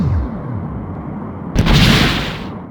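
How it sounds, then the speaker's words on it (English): A photon torpedo fired and exploding in the Star Trek: A Final Unity video game: a low ambient hum, then a sharp whooshing burst that swells into a broad, noisy roar lasting about a second before it cuts off. "Torpedo away."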